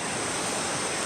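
A waterfall in Indonesia pours with a steady, dense rushing roar, loud and even throughout with no voices.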